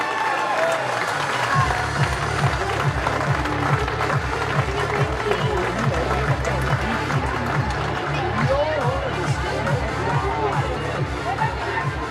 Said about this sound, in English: Let's give Logan a round of applause